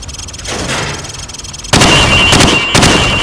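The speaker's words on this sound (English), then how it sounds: "Now shoot at the targets while firing from the hip" Rifle fire at training targets in Call of Duty Modern Warfare sounds loud and dense, with bursts of shots and a sharper, heavier volley midway over a constant background hum.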